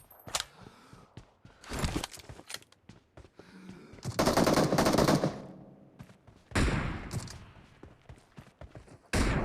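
Automatic gunfire in the battle-royale video game BGMI (PUBG) rattles in several loud bursts of rapid shots separated by short pauses, with sharp single reports in between, close and dominant.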